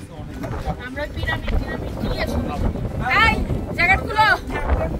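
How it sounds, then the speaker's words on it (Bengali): Strong wind buffets the microphone in a constant low roar beside a lake outdoors while people talk over it, their voices partly masked by the gusts. "প্রচুর বাতাসের মধ্যে আমাদের অবস্থা পুরো খারাপ, কারণ অনেক বেশি বাতাস"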